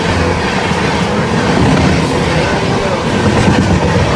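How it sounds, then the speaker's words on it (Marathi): A train rumbles past nearby, loud and continuous, with a steady rolling roar of wheels on track. "ट्रेन आली."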